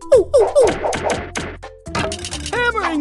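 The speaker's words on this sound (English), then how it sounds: "Tap your finger to hammer in the red nail." A nail is hammered in the video game Monkey Preschool Fix-It, a quick series of sharp knocking taps in a steady rhythm, followed by brighter game tones and a short voice.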